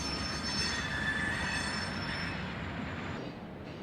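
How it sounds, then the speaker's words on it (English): A freight train rolls into the IHB's Gibson Yard with a block of auto racks, its wheels squealing in long, high, sustained tones over a loud, steady rumble of rail cars. "The train is entering the IHB's Gibson Yard and will drop off a block of auto racks before continuing west."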